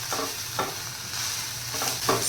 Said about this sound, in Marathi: सुकट टाकल्यानंतर हे छान मिक्स करून घ्यायचं आहे।